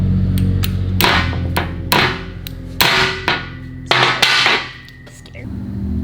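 A hammer strikes a DeWalt hammer drill several times during a repair in an uneven series of sharp, ringing metal whacks, some in quick pairs, loud and close, with brief pauses between blows.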